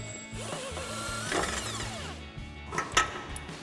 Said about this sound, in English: Now I'm just gonna back the bolt out.